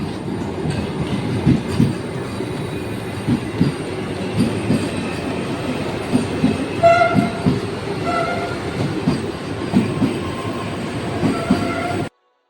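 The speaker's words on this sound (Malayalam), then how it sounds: "വന്ദേ ഭാരത് ദേ പോകുന്നു" A Vande Bharat train passing at a station, loud rumbling wheels and clattering carriages over twelve seconds, with a few short horn-like tones and wheel squeals in the middle, cutting off abruptly at the end.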